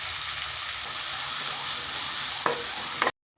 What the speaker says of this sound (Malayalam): ഇനി അതേ പാനിലേക്ക് നമുക്ക് 2 വെല്ലുള്ളി അരിഞ്ഞിട്ട് കൊടുക്കാം.